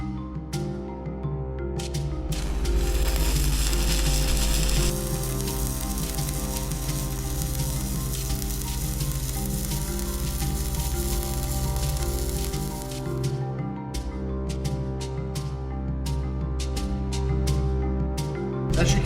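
Arc welding with a 2.5mm electrode on a DC Tradeweld inverter welder set near 85 amps: a loud, continuous crackling sizzle holds steady for most of the stretch, broken by sharp pops near the end.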